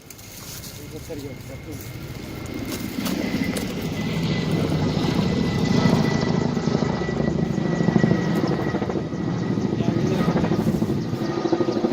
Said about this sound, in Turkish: Helikopterle arıyorlar bizi baba.